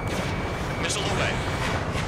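A missile launch in the combat flight game Ace Combat 7: Skies Unknown, heard as a loud, steady roar of rushing noise lasting the whole moment, with a radio-style voice faintly underneath.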